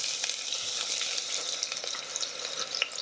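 Green chilies sizzling in hot oil with cumin in an Instant Pot, heard as a steady faint crackling hiss with small pops throughout, no talking.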